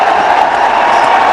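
A dense, steady roar of cheering from a packed cricket stadium crowd during a one-day international between India and South Africa, loud and continuous throughout with no clear breaks.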